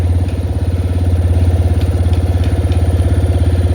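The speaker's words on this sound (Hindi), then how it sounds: "थोड़ा इंजन गर्म होने के लिए रुक जाते हैं भाई" A vehicle engine idles steadily while warming up on a hill road, a loud, close, rhythmic low throb that pulses evenly throughout with no talking.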